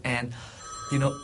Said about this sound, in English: hello, that's the phone ringing here.